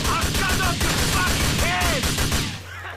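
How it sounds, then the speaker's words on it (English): Rapid bursts of gunfire in GTA IV aimed at a truck driver during a hijack mission, loud and continuous with repeated shots and game effects, fading slightly at the end. "I'll always try to shoot the driver."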